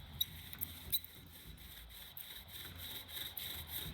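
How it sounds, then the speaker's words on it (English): A wooden spindle spins back and forth in a hole in a wooden board of a bow drill fire set, giving a faint, steady rasping friction with a few sharp squeaks near the start. "I'm creating friction by spinning the spindle in this hole, and it's creating all this brown dust"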